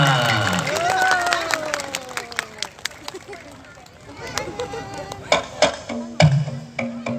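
An audience applauds at a jaranan dance performance, with scattered claps and crowd noise mixed under a loud announcer's voice and tonal music, the clapping growing more distinct toward the end.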